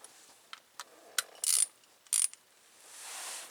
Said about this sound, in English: I'll just use a long handle breaker bar.